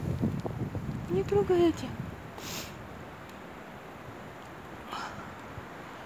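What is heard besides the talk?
strong gusty wind in a park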